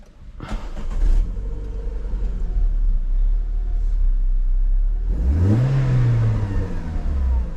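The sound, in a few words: Renault Clio 3 RS 2.0L engine starting and revving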